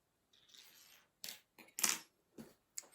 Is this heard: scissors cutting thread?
yes